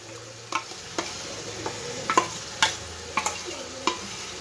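A sour yogurt and ground spice mixture is stirred into an onion curry pan over a low gas flame, giving a string of spaced scraping knocks from the spoon above a faint sizzle.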